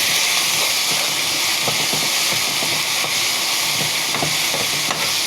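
Ginger and garlic frying in hot oil in a pot on the stove while being stirred: a loud, steady sizzle and hiss with scattered scraping clicks of the spoon, no voices.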